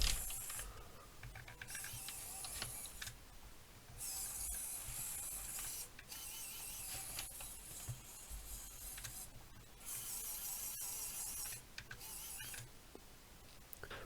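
Tiny N20 gear motor driving a 3D-printed drivetrain on an RC Claas Xerion tractor at full speed, a faint steady buzzing whir that switches on and off in bursts several times, with light mechanical ticking.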